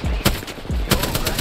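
Rapid gunfire in Apex Legends, loud bursts of shots close by in quick succession with a short gap before a second volley of repeated cracks.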